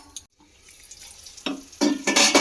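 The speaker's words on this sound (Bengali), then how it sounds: "বারে বারে এটাকে ঢাকা চাপা দিয়ে দিয়ে আমি নাড়াচাড়া করে বেশ সুন্দর করে মশলাটাকে কষিয়ে নিলাম" Spice paste with tomato for an egg curry is stirred and fried in a covered pan, with quiet scraping early on, then loud bursts of sizzling and stirring toward the end.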